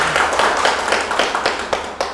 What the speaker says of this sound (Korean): 박수 치려면 같이 한번 쳐주시죠